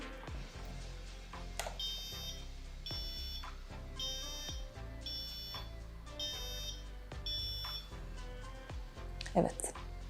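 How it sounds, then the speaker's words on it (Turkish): A Pinoo buzzer set off by a water flood sensor gives repeated electronic beeps, about five short bursts spaced evenly over ten seconds. The beeps sit over a low background hum and a few clicks. "Eğer ortam çok suluysa, ıslandıysa bana buzzer'dan bir uyarı veriyor."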